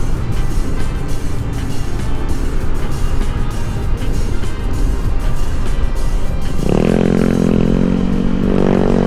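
A 2025 Honda ADV160 scooter rides along with a steady engine drone and heavy wind rush throughout, and a louder surge of rumble comes near the end.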